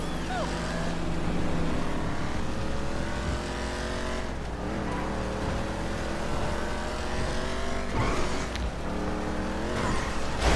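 A fast car in the video game GTA V roars continuously at high revs, its engine tone rising and falling through gear changes, loud and close, with brief dips around four and eight seconds and no talking.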